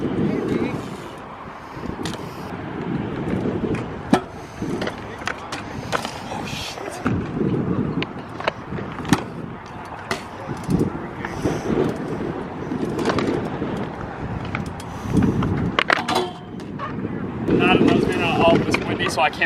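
Strong gusts from a windstorm buffet the microphone with a constant roar and rumble. Clattering skateboard-like knocks and scrapes sound through it, and brief voices come in now and then.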